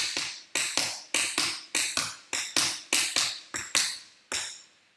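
Tap shoes strike a hard floor in a tap dance class, about a dozen crisp, evenly spaced taps ringing out close and loud with no talking between them.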